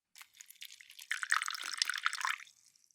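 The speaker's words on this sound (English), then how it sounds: "I added some water." Water is poured into a ground almond sample being tested for smell, giving a soft trickle that starts faint, swells into a louder splashing fill in the middle and then tapers off.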